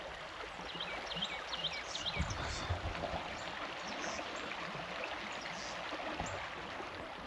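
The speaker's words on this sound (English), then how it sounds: "wonderfully temperate Guadalupe River." Steady rushing and trickling of the temperate Guadalupe River fills the scene at close range, a continuous wash of flowing water with a few brief splashes and faint voices beneath it.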